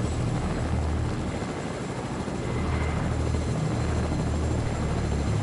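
A helicopter flies in a PS4 online shooter game, a steady low rotor thrum and engine drone holding constant and fairly loud from start to finish, with no speech over it.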